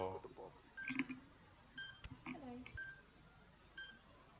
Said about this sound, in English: The hell is that incessant beeping?